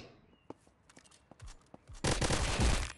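Heavy machine gun fire in a mobile shooter game: scattered single shots and clicks at first, then a loud sustained burst of rapid automatic fire filling the final second, with a brief low thump beforehand.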